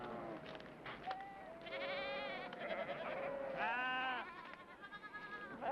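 A flock of sheep being herded bleats repeatedly, with several wavering overlapping cries near and at a distance, continuing steadily over a quiet outdoor background.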